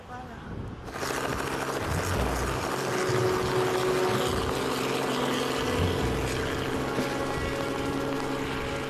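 A helicopter flies over New Caledonia, its engine and rotors giving a steady, droning roar from inside the cabin after a sudden rise at the start, with a voice talking over it.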